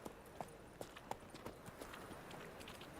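Roach the horse gallops in The Witcher 3: Wild Hunt, hooves clopping in an uneven quick run of sharp, fairly faint hits over a soft background wash.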